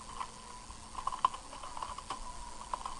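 Typing on a computer keyboard while entering router commands, a quiet, irregular patter of light key clicks with a few sharper taps, no speech.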